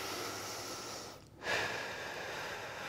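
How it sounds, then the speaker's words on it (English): A person doing a splits stretch breathes deeply, one slow audible inhale and exhale close to the mic, quiet and unhurried against faint room noise. "feel free to exaggerate your breathing"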